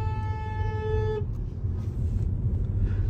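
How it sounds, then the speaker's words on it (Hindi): A car horn blares in one sustained honk lasting about a second, then cuts off, leaving a low traffic rumble behind. "देखो गाइस वो हॉर्न बजा देंगे"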